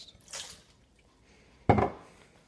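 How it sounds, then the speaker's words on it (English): Water poured into a pan while cooking, heard as a short splash then a louder, nearby liquid burst that fades out, with no talk over it. "Pour some water in."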